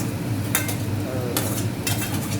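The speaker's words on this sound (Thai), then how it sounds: "เสร็จแล้วก็เอาหอมใหญ่ ใส่ลงไปผัดนะคะ" Onion is stir-fried in a pan with garlic, sizzling under a steady background hiss while a utensil scrapes and clinks against the pan three times.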